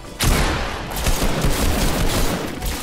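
Rapid gunfire in the video game Fortnite, a dense, loud burst of overlapping shotgun blasts and impacts that starts abruptly and continues for nearly three seconds.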